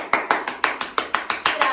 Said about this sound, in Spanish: Aplausos para Eric y para todos los que entendemos